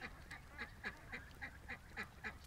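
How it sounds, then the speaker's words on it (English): Duck quacking in a quick regular series of about nine short calls, faint and evenly spaced. "That is a happy duck."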